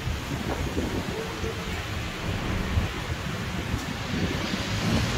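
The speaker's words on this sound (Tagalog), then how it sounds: "Makulimlim guys, panahon guys. Mabagyo." Strong, gusting typhoon wind blows in a steady, loud roar with a broad rushing texture, swelling slightly in places, with no other clear sounds.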